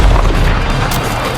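A deep booming bomb blast in the video game Doom, loud and heavy at the start, then a rumbling decay with a sharp crackle partway through; no talking.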